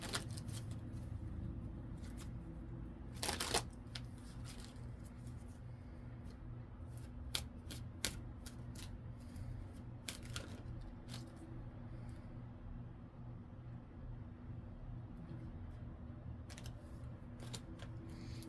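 Tarot cards being shuffled by hand, with soft repeated riffling and sharp flicks, a few louder slaps as cards spill out, close and fairly quiet throughout.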